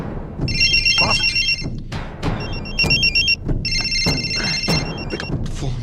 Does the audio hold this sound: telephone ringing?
yes